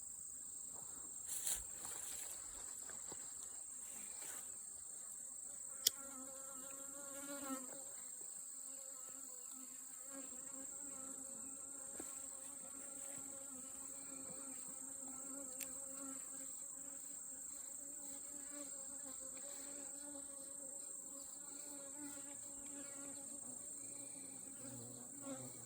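Honey bees buzz inside a beehive in a continuous, faint hum of many insects, with occasional louder close passes and no speech.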